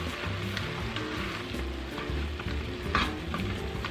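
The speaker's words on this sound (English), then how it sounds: "Now go in with your onion and your garlic. And we're going to cook this for about 3 minutes." Onion and garlic sizzle with sausage in a pot for Zuppa Toscana, a steady close frying hiss with occasional stirring scrapes and no talk.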